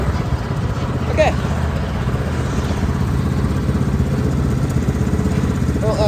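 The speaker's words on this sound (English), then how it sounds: "I don't know why it backfired. That's kind of scary." A racing lawnmower engine runs steadily and loud with a rough, continuous rumble, close by; a brief sharp pop may be a backfire.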